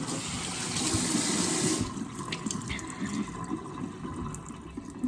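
Water runs from a tap during a hair wash, a steady close rush that drops and turns choppier partway through as the stream is broken up.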